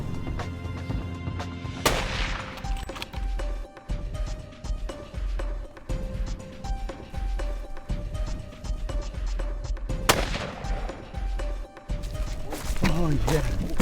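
Two loud rifle shots ring out in the African bush during an impala hunt for leopard bait, each a sharp crack with a rolling echo, spaced several seconds apart amid outdoor noise and voices.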